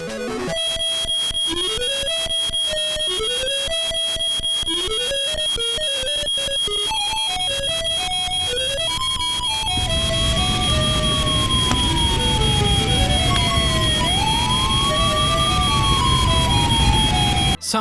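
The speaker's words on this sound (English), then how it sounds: "When I first played this game and charged the Super Peel out, I remember my mom thinking the fire alarm was going off." Super Peel Out charging in the 8-bit Sega game Sonic Chaos: a rapid electronic pulsing with steadily rising sweeps, then a loud, continuous siren-like wailing tone that bends up and down, heard alone without talk.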